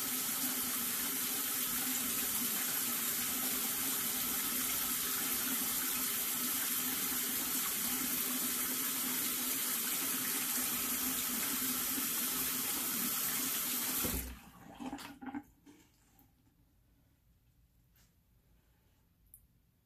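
Tap water runs steadily into a sink while fountain pens are rinsed, a loud continuous hiss that stops abruptly near the end, leaving faint clatter.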